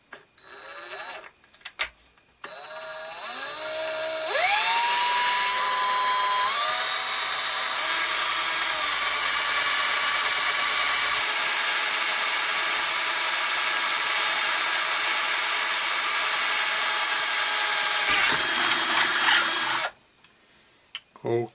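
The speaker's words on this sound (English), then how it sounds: "I'm going to use this drill to do that." A power drill boring a hole in plastic whirs up, its pitch climbing before holding at a loud steady whine for about fifteen seconds, then cutting off abruptly.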